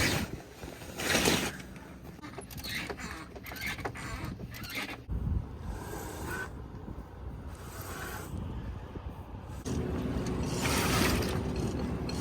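On a sailboat near Stockholm, a sail goes up with creaking, ratcheting winch and rigging noises, bursts of wind and water wash around the boat, with louder gusts near the start and end.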